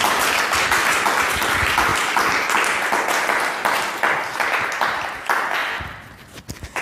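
Audience applause fills a room at a math alumni meetup: dense, steady clapping from many hands, close and loud, thinning and tapering off near the end.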